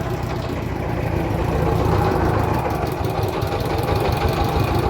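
A motorboat engine on a river trip in Birishiri, Bangladesh, runs close by as a steady, loud, chugging drone with a faint knocking rhythm and wash of broadband noise, holding level throughout with no voices.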